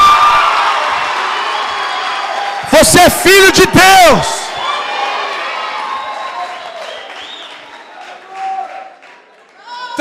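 Church congregation bursts into applause and cheering, a short loud roar with whoops and shouts from the crowd, framed by a preacher talking before and after.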